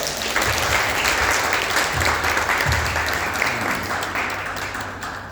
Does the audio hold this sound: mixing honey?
no